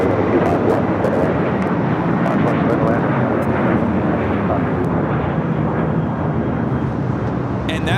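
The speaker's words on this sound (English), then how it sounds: "And that is United Airlines 319 taking off to Puerto Vallarta on the 737-800." A United Airlines Boeing 737-800 takes off from LAX bound for Puerto Vallarta, its engines a loud, steady broadband roar filling the whole stretch, close and sustained, with faint bits of voice underneath.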